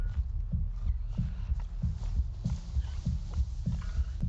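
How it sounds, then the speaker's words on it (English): Steady rhythmic heartbeat thumping, low and throbbing, close and loud over a faint ambient hum, warning of a nearby Thanator predator in Avatar: Frontiers of Pandora; regular double-beat pulses repeat about every 0.7 seconds. "The heartbeat is getting faster and faster."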